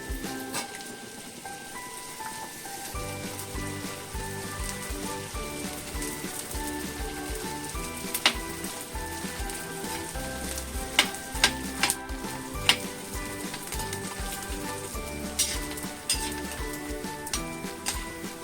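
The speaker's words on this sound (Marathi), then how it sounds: "तूप आता तापलेलं आहे आणि आपण त्याच्यामध्ये डिंक तळून घेणार आहोत" Edible gum frying in hot ghee gives a steady crackling sizzle with occasional sharp pops and light clinks, close and continuous throughout, with faint music in the background and no talking.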